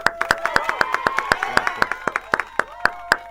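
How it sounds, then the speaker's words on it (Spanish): Applause from a live studio audience on a radio show, crisp regular claps at a steady pace across the whole stretch, close and moderately loud, with no talk over it. "Y el aplauso para él."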